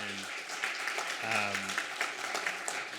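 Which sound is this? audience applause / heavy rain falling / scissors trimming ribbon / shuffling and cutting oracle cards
audience applause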